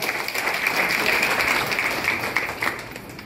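A crowd at a political party appointment and workers' training event applauds for its leader, a dense, sustained burst of clapping that fades slightly toward the end.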